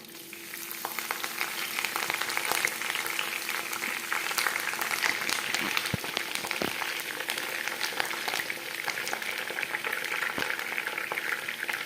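Green chilies and curry leaves fry in hot oil for chicken kondattam, a loud, continuous crackling sizzle dotted with sharp pops that keeps up throughout.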